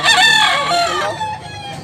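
A pumpkin tiger rooster with blue legs crows once, loud and close, a strained drawn-out call tapering off at a fowl market stall in Tabunok, Cebu.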